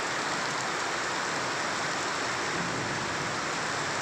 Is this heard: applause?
no